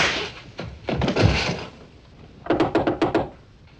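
Someone knocks on a door, and a quick run of about five sharp, hollow raps comes after a few earlier dull thuds. The knocks are close and fairly loud, with no voices over them.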